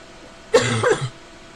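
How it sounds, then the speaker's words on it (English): One close, loud cough from someone recovering from influenza, with a quick second burst, surrounded by quiet room tone. "Sorry about the cough."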